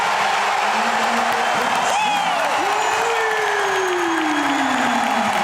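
A crowd in a basketball arena roars and applauds, with whoops and rising and falling whistle-like tones cutting through a continuous, loud bed of cheering.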